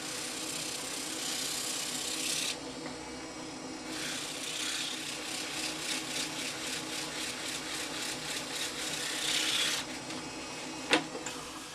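Wood wax is buffed to a shine on a turned oak bowl, giving rhythmic rasping friction over a steady motor hum. The rubbing breaks off briefly, resumes for several seconds, then stops before a single sharp click.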